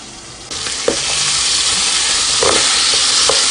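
Oxtail browns in a hot pot for a Jamaican dish, a loud, close, continuous sizzle that swells as the meat hits the oil, with a few scrapes and knocks of a spoon stirring.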